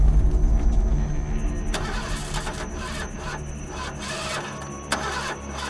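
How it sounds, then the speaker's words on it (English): A truck engine cranks repeatedly without catching, a steady mechanical churn with a few sharp clicks, close and fairly loud with no voices. "And the truck wouldn't start"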